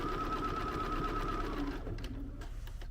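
A sewing machine stitches fabric for a kids' oven mitt with a fast, steady mechanical whirr and a motor hum that winds down and stops near the end, heard close up without speech.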